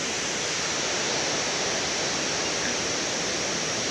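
Steady, loud roar of a 33 m mountain waterfall, a continuous broadband rush of falling water with no pauses, filling the scene close by.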